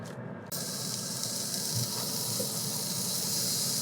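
Beef burger patties smashed with a spatula on a tallow-greased Rectex smoke stone at 425 degrees hiss in a loud, steady sizzle that starts abruptly and holds unbroken to the end.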